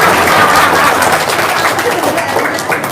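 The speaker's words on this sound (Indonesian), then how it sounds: "Tepuk tangan dong ya, habis BAB." A crowd breaks into loud, dense applause, many hands clapping steadily up close before easing slightly toward the end.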